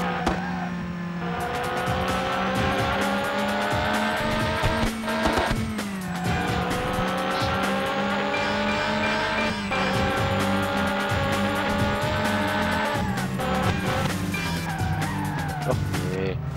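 Race car in the PS1 Le Mans racing game skidding off the track, a loud continuous engine whine with shifting pitch and tire squeals as it slides across the surface.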